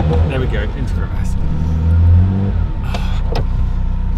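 A Ferrari F40 engine idles in a deep, loud rumble, swelling briefly as the car is put into reverse, with someone talking over it.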